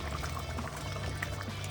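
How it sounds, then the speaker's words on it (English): Water is poured from a box into a cooking pot while making soup, giving a steady, close splashing flow that runs throughout with no voices. "I took the box and filled it up halfway with water. Just going to pour it right in there."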